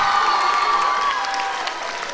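A school musical audience claps and cheers in a steady, dense wash of applause with shouting voices, holding strong throughout and easing slightly toward the end.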